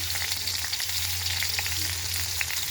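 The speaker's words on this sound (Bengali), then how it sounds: "আলুগুলো একটু ভেজে নেব" Potatoes frying in oil with cumin seeds in a pan, a steady close hiss and crackle that holds evenly throughout with no voices.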